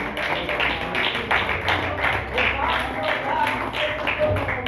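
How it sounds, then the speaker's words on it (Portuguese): Church congregation clapping steadily in a dense, continuous stream of hand claps, lively and close, with voices mixed in throughout. "Vamos recebê-lo com palmas bem alegres para Jesus."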